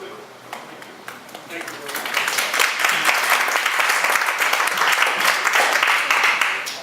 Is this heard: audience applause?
yes